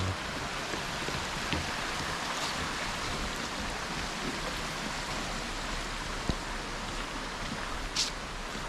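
Water pours down Khlong Lan waterfall in Thailand, a constant dense rushing hiss that holds steady and close from start to end, with no voices and only a faint tick or splash now and then.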